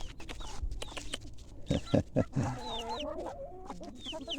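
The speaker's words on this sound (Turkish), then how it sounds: "civcivi olan anne tavuğumuz da artık dışarıya çıkmaya başladı" A mother hen clucks in low, close bursts while her chick's thin high peeps chirp repeatedly around her.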